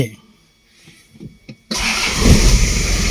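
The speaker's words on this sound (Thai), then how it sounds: "เดี๋ยวฟังเสียงเครื่องยนต์กันหน่อยว่าเป็นยังไงน้องพี่น้องเนาะว่าจะสตาร์ทติดง่ายไหมนะครับ" After a second or so of near quiet with a few faint clicks, a Toyota Mighty-X pickup engine cranks and catches, then settles into a loud, steady idle close by.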